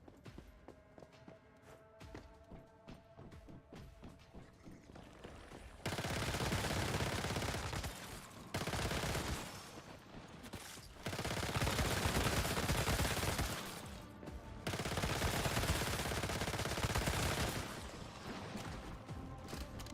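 Sustained automatic weapon fire in the survival shooter Once Human, long dense bursts of rapid shots broken by brief gaps, loud and continuous with no reload pauses.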